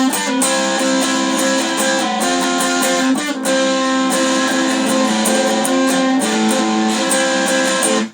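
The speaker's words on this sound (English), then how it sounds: "Pre-chorus is very similar to the part I just taught you, but it's like sounds like this." Electric guitar strums the pre-chorus chords of a song as a rhythm part, a dense, sustained, slightly driven chordal wash with steady strokes, loud and continuous with no talking.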